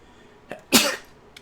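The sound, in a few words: sneeze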